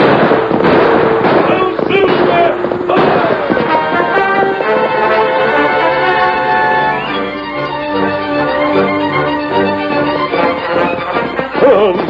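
Gunshots in a 1942 Western radio drama: a quick burst of sharp shots with galloping hoofbeats in the first few seconds, giving way to loud orchestral music, with voices mixed in.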